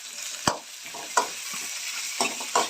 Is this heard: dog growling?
no